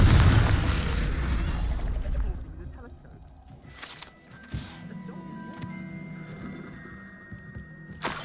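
The Confringo fire spell in the Hogwarts Legacy video game erupts as a loud, deep blast at the start, then rumbles and fades over a couple of seconds before softer game effects follow.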